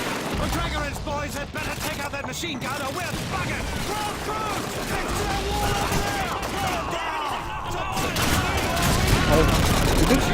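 Sten submachine gun in Call of Duty 2, dense rapid bursts of close gunfire over a loud battlefield din of other shots and explosions, continuous throughout.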